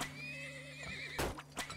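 Horses neigh and whinny in the video game Turmoil, a faint, quiet whinny with wavering pitch followed by a couple of short snorting bursts.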